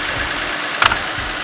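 A Jeep engine idles smoothly and steadily, a low continuous hum with a faint regular pulse and one brief sharp sound near the middle.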